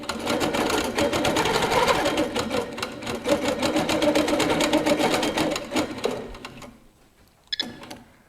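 A Handi Quilter Capri stationary longarm quilting machine stitches in a fast, steady mechanical rhythm, loud and close, then slows and stops near the end, leaving quiet with a brief clunk.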